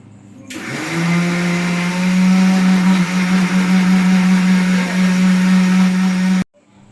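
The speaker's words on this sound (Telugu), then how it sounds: "ఇదిగోండి మిక్సీ యాడ్ చేసుకున్నాము" A mixer grinder whirs loudly and steadily, blending green chicken masala with curd and a little water, starting abruptly and cutting off sharply after about six seconds.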